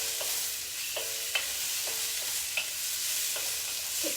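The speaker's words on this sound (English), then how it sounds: "It is a wok that I'm cooking in. So the wok is cast iron" Shrimp stir fry cooking in a cast iron wok gives a steady, moderate sizzle with a few faint clinks from stirring.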